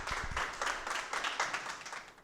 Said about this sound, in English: A big round of applause for Collins,